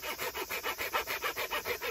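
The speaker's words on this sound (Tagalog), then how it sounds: "paglalagari nila." Hand saw cutting through wood, steady rhythmic back-and-forth strokes, about eight per two seconds, close and loud with no talk over it.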